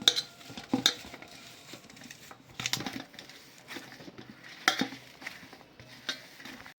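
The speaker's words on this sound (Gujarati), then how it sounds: "મિક્સ કરી દેવાનું છે બરાબર સરસ રીતે." A spoon scrapes and clinks in a pan while semolina halwa is mixed, sounding as close, irregular taps and scrapes over a faint sizzle.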